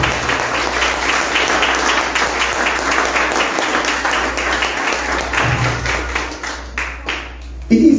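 Church congregation applauding for the Lord during a Spanish-language sermon, a steady dense clapping that fills most of the clip before tapering off at the end.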